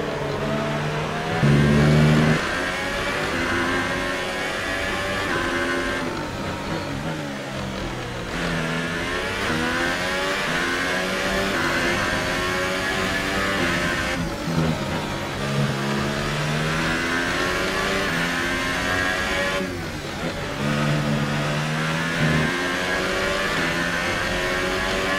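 Formula 1 car engine in F1 2018 at the Sochi Autodrom screams loud and close, pitch climbing through each gear and dropping sharply on shifts, over and over through the lap.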